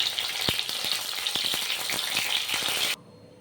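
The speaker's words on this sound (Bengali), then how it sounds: "আমি একদম লো হিটে কিন্তু পটলগুলো ভেজে নেব নাহলে স্টাফ বেরিয়ে যাবে" Stuffed pointed gourds fry in oil on low heat, a steady near sizzle with soft clicks from turning, cutting off abruptly near the end.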